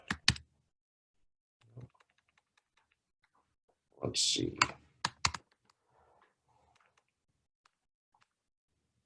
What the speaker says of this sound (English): But now, if I start typing,